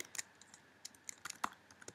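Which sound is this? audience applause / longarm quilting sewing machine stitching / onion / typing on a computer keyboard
typing on a computer keyboard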